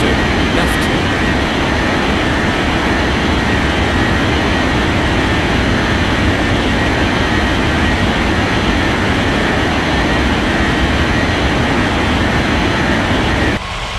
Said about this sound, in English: Airfans at 5623, cleared for takeoff runway 32 left.